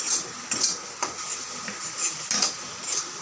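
Yardlong bean paste being stirred in a cooking pan, a metal spoon clinking and scraping against the pan in a loose, repeated rhythm, close and fairly quiet, with no talking.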